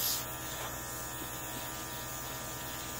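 A Luminess Airess airbrush makeup compressor runs with a steady, fairly quiet electric buzz and hum, alone and unchanging for a few seconds.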